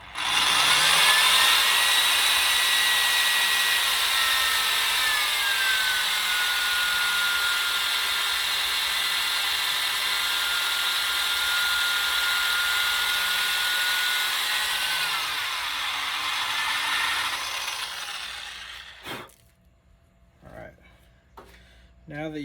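A power drill runs continuously, boring a hole into a metal shank, with a loud steady whine that holds for about eighteen seconds before stopping, followed by a few clanks and handling knocks.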